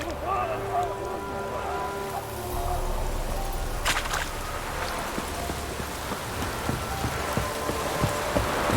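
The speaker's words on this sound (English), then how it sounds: "Looks like rain." Steady rainfall in The Witcher 3 game, a continuous hiss of drops on surfaces with a low rumble underneath, joined by a sharp crack partway through, while someone talks over it.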